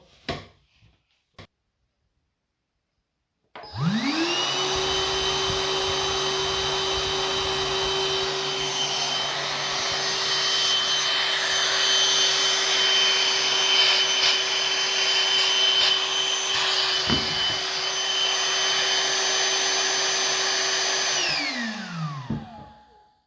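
A Beko vacuum cleaner with modified suction switches on after a couple of faint clicks, spins up into a loud, steady whine and roar for about eighteen seconds, then winds down and stops.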